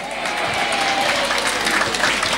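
A church congregation applauds and cheers together, a dense, steady wash of clapping and crowd noise filling the room without pause.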